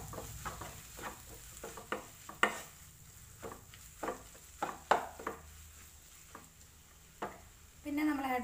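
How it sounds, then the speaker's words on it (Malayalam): Turmeric powder is stirred into chattippathiri filling in a pan, a series of spaced spoon scrapes and knocks against the metal over a faint sizzle, with a voice starting at the very end. "ഒരു കാൽ ടീസ്പൂൺ മഞ്ഞൾപ്പൊടി ആഡ് ചെയ്യാം. നന്നായിട്ട് ഇളക്കി കൊടുക്കാം."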